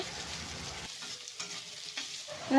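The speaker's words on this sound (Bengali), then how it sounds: "পেঁয়াজটা একটু ভালো করে ভেজে নিতে হবে" Soft sizzling of onions frying in a pan, with a few light stirring scrapes, close and steady.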